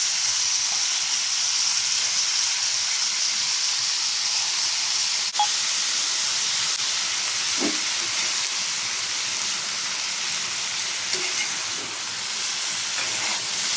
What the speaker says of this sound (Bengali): এখন আমি দিয়ে দিব আমার ধুয়ে রাখা সবজিগুলো।